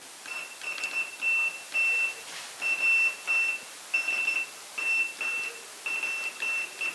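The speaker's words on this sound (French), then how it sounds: "je suis arrivé à me faire une petite station émettrice en morse qui émet en radio en 210 kHz" A homemade Morse code radio transmitter on breadboards, sending at 210 kHz and played through a hi-fi in another room, gives steady high beeps in short and long groups over a faint hiss, with no talk.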